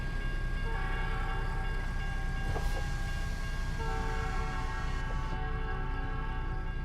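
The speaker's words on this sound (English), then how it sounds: "Man, the train sounds horrifying. Sounds like a horror movie train." In American Truck Simulator, a passing train sounds its horn in long, droning, slightly eerie blasts over a constant loud roar of rumbling engine and road noise.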